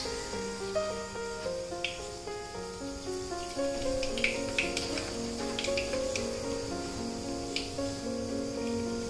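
Mustard seeds crackle and sizzle in plenty of hot oil while making Nagpuri tarri poha, a steady spattering pop under soft background music.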